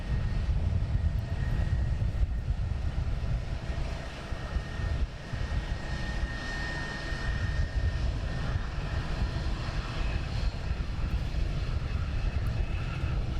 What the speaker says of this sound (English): BizJet coming in.